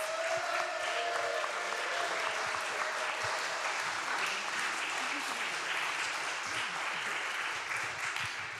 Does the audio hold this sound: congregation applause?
yes